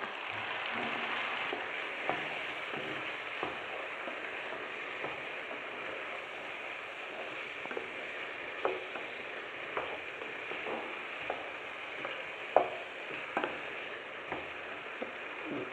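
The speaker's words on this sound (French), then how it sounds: "On va laisser encore mijoter 5 minutes." Vegetables with tomatoes simmer in a pan, a soft steady sizzle and bubble with small pops and occasional light clicks, fairly quiet and without talk.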